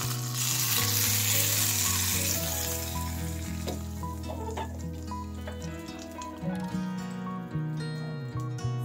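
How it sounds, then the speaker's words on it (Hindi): A loud, hissing sizzle of hot spice tempering poured into sambar fades gradually into quieter bubbling and stirring, with music playing throughout. "पूरा तड़का इसमें डाल देंगे।"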